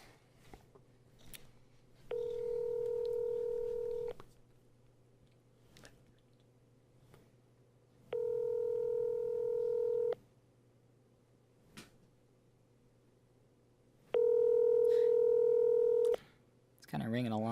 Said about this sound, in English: It's kind of ringing a long time.